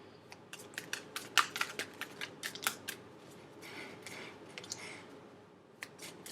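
Tarot cards being shuffled, a run of crisp, quick riffling snaps and soft slaps in uneven bursts, fairly close and quiet with no talking.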